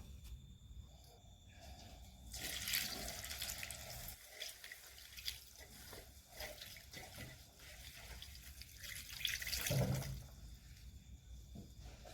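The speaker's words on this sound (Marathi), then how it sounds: "आता आपण ही चिरलेली कोथिंबीर धुवून घेऊया।" Chopped coriander is rinsed under running water in a kitchen, with soft uneven splashing and trickling that swells at moments and stays fairly faint throughout.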